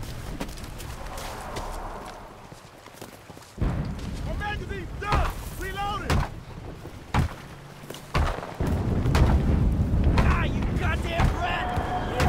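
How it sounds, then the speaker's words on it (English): Booming artillery impacts and gunfire crack and rumble across a World War II Pacific battle at the Tenaru River in the game Enlisted, with scattered blasts and clattering, and voices shouting between them. "Calling in artillery!"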